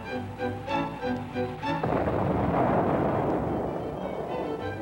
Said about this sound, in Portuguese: Não conseguiram implodir uma ponte. Muito barulho e poeira.